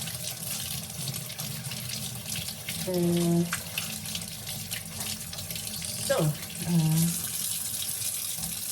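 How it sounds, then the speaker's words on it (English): Vegetables scrubbed with a brush under a running kitchen tap, steady water flow into a sink with brief scrubbing and splashing, close and fairly loud, with no talking. "That's how I wash my veggies."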